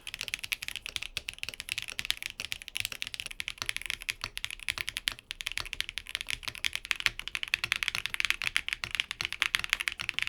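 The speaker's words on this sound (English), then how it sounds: "quick cuts on how each foam sounds in the keyboard" Fast, continuous typing on a QK100 mechanical keyboard fitted with different foam gives a steady stream of close, crisp key clacks with no pauses and no voices.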